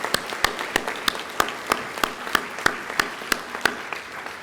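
An audience applauds at a science fair awards ceremony, where about a dozen sharp, evenly spaced claps ring out close and clear above a softer background patter.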